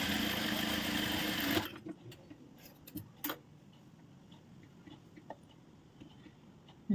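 A sewing machine runs in one steady continuous burst for about a second and a half while stitching along a blouse lining for a back-open, back-hook blouse. It then stops, leaving quiet handling clicks and faint rustles.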